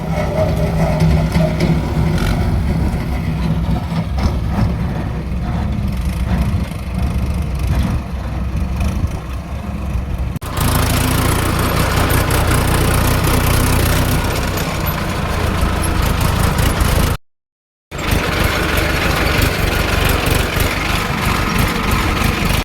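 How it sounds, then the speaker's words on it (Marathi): Two JCB excavators dig a trench, and a loud, steady engine drone runs throughout, close by, with a change in tone partway through and a brief dropout near the end. "त्यासाठी 2 JCB तिथे चालू आहेत बघा"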